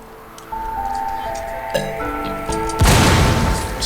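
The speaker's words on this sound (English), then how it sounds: "Explosions." Explosions go off in the video game Flood Escape 2, with a loud broadband blast near the end breaking over layered tonal game music and chimes.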